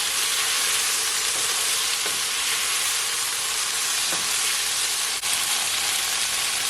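Beef and onion stir fry sizzles hard in a hot pan, a loud, dense, continuous hiss with a few faint clicks of the spatula as it is stirred, and no voices.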